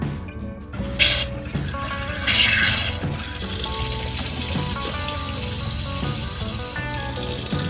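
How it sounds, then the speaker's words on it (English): Water running from a tap in a Solis 59P RV while flushing bleach out of the fresh water system, a continuous splashing gush that starts with a burst and then settles into a steady flow. "So let's turn some water on and get the bleach smell out."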